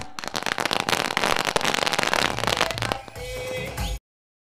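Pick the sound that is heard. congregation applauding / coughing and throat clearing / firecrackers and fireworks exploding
firecrackers and fireworks exploding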